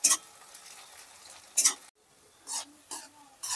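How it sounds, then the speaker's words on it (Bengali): Sliced onions fry in hot oil in a wok, with a steady soft sizzle broken by a few sharp scraping stir strokes and short bursts, close and moderately loud with no talking. "তো আমি ঝুরি করে কেটে রাখা পেঁয়াজটা এবার ভেজে নেব"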